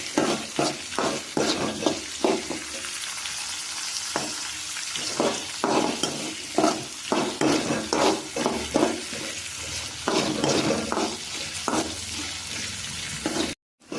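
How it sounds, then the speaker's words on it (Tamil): Beans and carrots sautéing in hot oil for upma, with a steady close sizzle and repeated rhythmic scrapes and stirs of a spatula throughout, no voices. "இது என்னன்னா கொஞ்சம் நேரம் எண்ணெயிலே வதக்கணும்"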